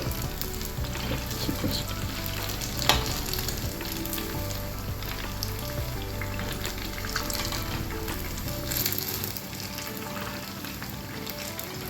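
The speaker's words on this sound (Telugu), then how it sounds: "ఇలా ఒక్కొక్కటిగా ఫ్రై చేసేసుకోవాలి మీడియం ఫ్లేమ్లో పెట్టి ఇలా ఫ్రై చేస్తే" Egg bajji frying in hot oil over a medium flame, a dense continuous sizzle and bubbling throughout, loud and close with no talking.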